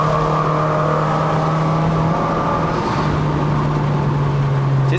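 Proton Inspira 2.0 CVT fitted with a bolt-on turbo accelerating on a mountain road, a steady droning engine note with a held tone that dips briefly and resumes, heard from inside the cabin without speech.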